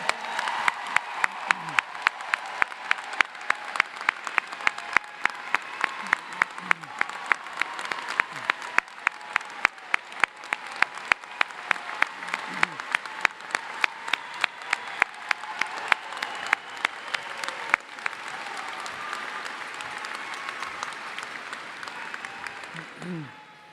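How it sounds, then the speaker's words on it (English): Sustained applause from a large crowd fills the room at a high school graduation ceremony, a dense steady clapping with a few louder individual claps standing out, slowly tapering off near the end. "if we could give him one last round of applause"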